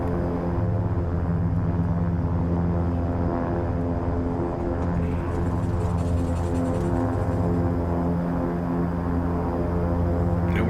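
An Airfoil Labs King Air 350 in X-Plane 12 taxis in to park, its turboprop engines a steady, close, continuous drone with a low rumble and even tonal hum throughout.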